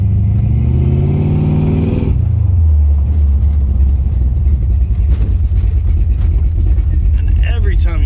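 A 1999 Ford Mustang with a 429 engine idles loud and close after slowing down, its low, lumpy rumble loping in a steady choppy rhythm, briefly higher and revving at the start, with a voice faintly underneath.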